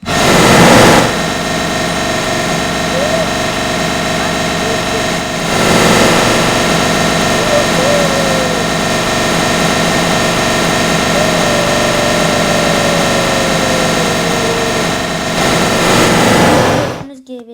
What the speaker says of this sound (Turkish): Bu da bir jet böyle sesini biraz kısayım çok geliyor sesi.